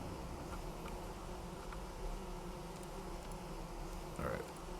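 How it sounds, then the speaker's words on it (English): Bees in Vintage Story hum and buzz in a thin, continuous drone over a steady background hiss. Someone speaks over it. "Scaring all my bees."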